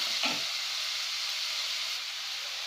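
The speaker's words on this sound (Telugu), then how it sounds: "ఉల్లిపాయ ముక్కలు ఒక ఉల్లిపాయ తీసుకున్నాను. ఇది బాగా వేయిద్దాము." Onion pieces fry in a pan for a veg Manchurian, a steady close sizzle and hiss running throughout, with a brief louder burst early on as they hit the oil.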